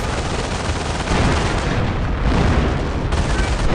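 Artillery barrage in the WWII strategy game Company of Heroes Mobile, set in the battle of the Scheldt, a loud continuous roar of rumbling blasts and crackling gunfire that thickens after the first second and never lets up.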